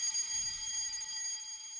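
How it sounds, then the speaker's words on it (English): A building fire alarm sounds continuously as a loud, steady electronic tone with bright high harmonics, holding level for the whole stretch with no voices. "The fire alarm has been activated in the building."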